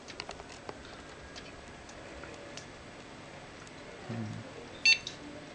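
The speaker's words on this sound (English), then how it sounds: "And there's the memory beep." A short electronic memory beep from a computer booting sounds near the end, brief and clear against a quiet room with faint clicks and a low hum.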